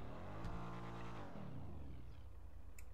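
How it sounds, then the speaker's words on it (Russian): A car in GTA 5 RP starts up, its engine catching with a low rumbling exhaust note that rises and settles into a steady idle, fairly quiet with no talk over it. "Вот она, пацаны, очень приятно сейчас прозвучала, когда завелась."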